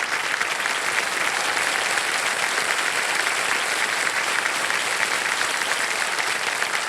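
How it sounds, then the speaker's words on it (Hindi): A studio audience on the quiz show Kaun Banega Crorepati (KBC) applauds, an even wall of many hands clapping that holds steady for the whole stretch without a voice breaking through. "हाँ तालियां बज जाएं इनके लिए"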